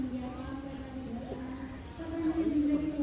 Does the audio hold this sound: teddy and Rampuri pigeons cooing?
yes